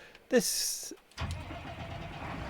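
In Farming Simulator 22, a Claas tractor engine starts up: a short mechanical crank and chirp, a brief pause, then a steady low engine rumble settling into an idle, heard alone without talk.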